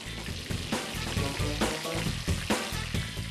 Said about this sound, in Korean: 한 번에 80개의 꿀빵을 튀겨내는 작업자.